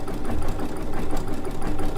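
A sewing machine running in embroidery mode to couch yarn, giving a loud, close, continuous mechanical whir with a fast steady rhythm throughout.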